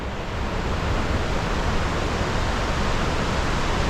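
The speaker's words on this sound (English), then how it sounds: "Got the sound of the falls in the background" A steady, loud roar of rushing water from a waterfall in Glencoe, Scotland, broad and unbroken, filling the whole scene with no voices.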